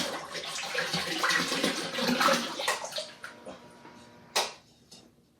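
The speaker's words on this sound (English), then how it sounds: "So I will pour this on the inside as I rotate the bowl." Blue ceramic glaze poured inside a bowl as it is rotated, a steady liquid pouring and sloshing that thins into scattered drips, followed by one sharp knock near the end.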